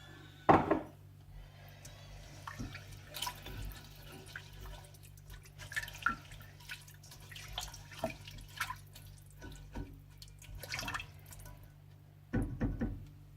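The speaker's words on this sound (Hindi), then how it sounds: "मैं पानी इसके अंदर ऐड कर रही हूँ, तकरीबन 1 कप।" Roughly one cup of water is poured into a pot of rice for chicken yakhni pulao, quiet splashing and dripping with scattered clinks and knocks, fairly faint against a low steady hum, with a louder burst near the end.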